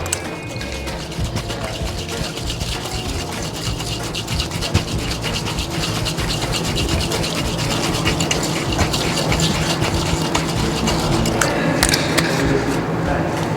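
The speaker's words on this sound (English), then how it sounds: "So now we're gonna go ahead and give it a dry shake" A cocktail shaker holding a Clover Club mix and no ice is shaken hard, making a dense, continuous rattle and slosh close by that stays loud for the whole stretch.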